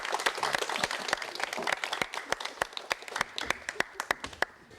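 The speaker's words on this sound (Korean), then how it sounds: "여러분 다시 한번 박수 부탁드리겠습니다" A studio audience at a 1989 Korean TV talk show claps in applause, a moderately quiet wash of hands that thins out into scattered, separate claps toward the end.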